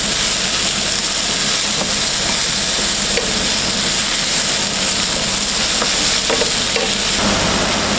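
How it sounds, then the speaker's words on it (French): Apples roast in melted butter in a frying pan for an apple tart, a loud, dense and unbroken sizzle close by with faint clicks and no speech. "Donc on ajoute les pommes pour pouvoir les faire rôtir."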